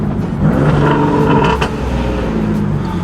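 A modified turbocharged car engine running loud and close, with a rough, throbbing exhaust note that rises in a short rev and then settles back to a heavy idle.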